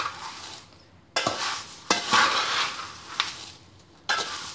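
A pot of poha mixture tossed by hand in a few separate bursts, each a rushing, rattling shuffle of dry flakes with faint metallic contact against the pot, separated by short quiet gaps.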